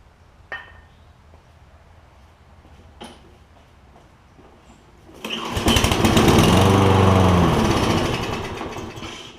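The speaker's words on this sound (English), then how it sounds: "I'll show you all that it runs on starting fluid before we take apart this carburetor" Kohler engine on a Toro Recycler lawn mower with a stuck choke, fired up on starting fluid: a few faint clicks and pulls, then the small engine catches and runs loud and steady, close by, with no talking.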